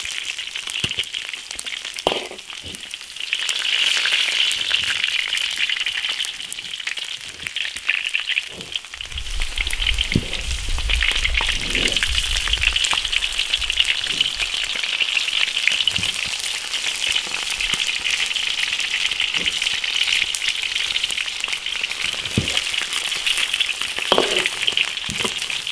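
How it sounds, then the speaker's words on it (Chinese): Beef ribs pan-fry slowly in oil over low heat in an iron wok, giving a steady, moderate sizzling hiss throughout with occasional soft clinks and spits, no talk. "把它四面都煎金黄，"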